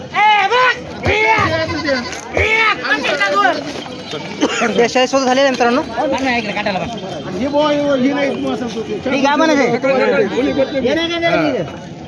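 Many goats bleat loudly and continuously across the busy Khandoba goat market in Parbhani, their wavering cries overlapping with people talking and calling nearby.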